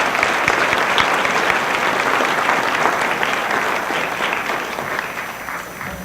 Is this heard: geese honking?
no